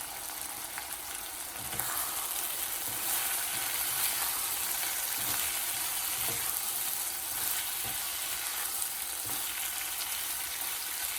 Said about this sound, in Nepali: दुवै साइड राम्ररी रातो भएर फ्राई नभएसम्म यसरी नै तयार गर्दै रहनु पर्दछ।